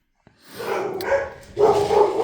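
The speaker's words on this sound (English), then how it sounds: "sorry about my dogs again" Dogs barking close by, a few sharp yips followed by louder sustained barks, with no talking.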